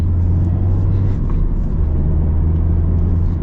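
A 2025 Mazda Miata Club RF engine revs hard but below redline, a loud, steady, close droning roar heard from inside the car, with no talk.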